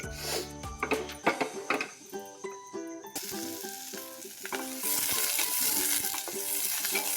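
Refined oil sizzles in a pan, a soft frying hiss that grows denser and louder in the second half beneath prominent tonal background music.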